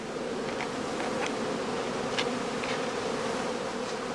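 Honey bees swarm and buzz around straw skeps at a heather apiary, a dense continuous drone with individual bees whizzing past close by now and then, no voices.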